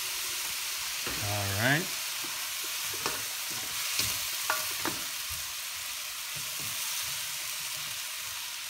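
Garlic, onions and ginger sauté in a pan with a steady, moderate sizzle that runs throughout, with soft stirring clinks. A person speaks briefly near the start.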